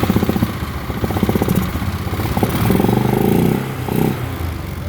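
A Polaris Sportsman ATV engine runs close by with a rough, loud idle. Its pitch wavers and briefly rises as if it is given a little throttle, and it keeps going without a break.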